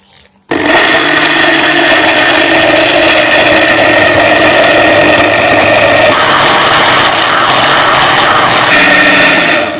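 A blender grinds onion, garlic, ginger, lemongrass, belacan and dried chili with water into a sambal paste, its motor kicking in abruptly and roaring loud and steady for nearly ten seconds.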